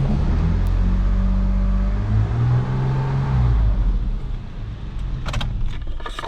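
A 2007 Toyota FJ Cruiser with a 4.0L engine idles with a deep low rumble, then revs up and back down in a smooth rise and fall, recorded up close, with a few clicks near the end.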